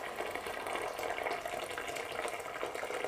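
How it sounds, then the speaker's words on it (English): Boiling water from a kettle poured into a home brewing kit pouch for an American IPA, a steady, soft hissing splash that runs on without pause. "Steady your pouch and add some boiling water to it."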